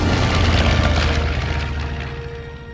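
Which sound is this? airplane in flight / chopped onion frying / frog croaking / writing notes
airplane in flight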